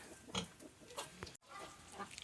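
Newborn piglets oink and squeal in short, close bursts, several separate grunts spaced irregularly over a quiet background.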